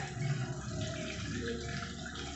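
Water runs steadily from a bathroom tap while someone brushes their teeth, a continuous close hiss and splash with no talking.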